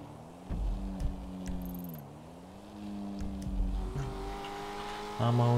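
A car engine in GTA 5 (FiveM) hums and shifts pitch steadily, rising and falling as it accelerates, with a louder revving surge near the end.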